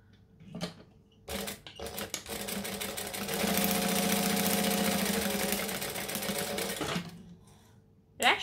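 A sewing machine runs a back stitch, its motor whirring steadily for a few seconds, bracketed by short bursts of mechanical clatter and brief pauses before and after.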